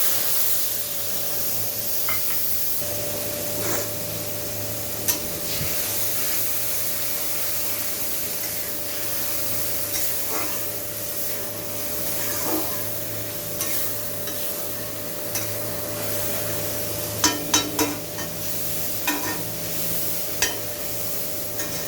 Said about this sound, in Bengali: মশলাটা আমি এভাবেই ভেজে নিব।